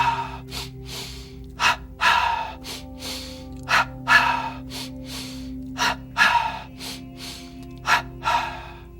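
A yoga bellows or double breathing exercise produces a regular series of forceful, close breaths. Sharp inhales and exhales repeat about a dozen times in a steady rhythm.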